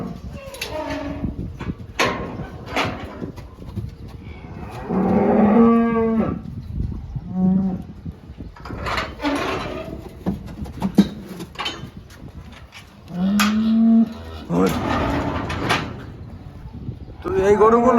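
Large dairy cows on a farm in Saudi Arabia low and moo several times, with loud, drawn-out calls recurring across the stretch, alongside someone talking and some clattering barn noise.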